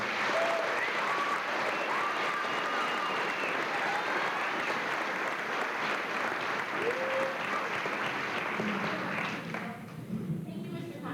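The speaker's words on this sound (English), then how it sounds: "how about one last round of applause?" A large audience at a 1997 graduation ceremony in Amman applauds in a sustained, dense roar of clapping that fades slightly near the end, with voices faintly audible underneath.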